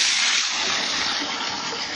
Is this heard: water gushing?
yes